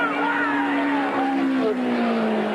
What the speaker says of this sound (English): Only 3 cars side by side fighting at the line.